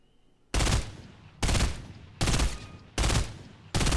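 A legendary burst assault rifle fires in Fortnite: five loud, tight bursts of rapid shots, each about a third of a second long, spaced at a slow, even interval with quiet gaps between them.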